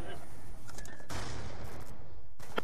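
Gunfire in a hardcore Call of Duty match crackles loud and close in short bursts, with a sharp burst near the middle and another at the end, over continuous game noise.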